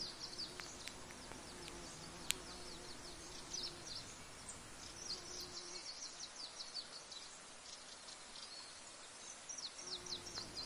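Insects buzz continuously in a mountain gorge near Niš, Serbia, among flowering thyme, St John's wort and dogwood, with scattered high chirps and ticks throughout and the background growing quieter midway.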